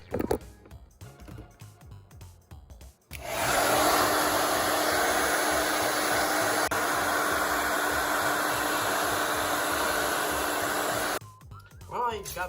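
An EVGA-branded hair dryer blows on an SSD, a loud steady whoosh with a constant tonal hum that lasts about eight seconds, with some handling noise before it and after.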